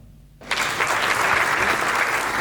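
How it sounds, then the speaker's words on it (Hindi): Applause from a live comedy show audience bursts in after a short quiet moment and continues as dense, steady clapping to the end. "तालियां चाहूंगा"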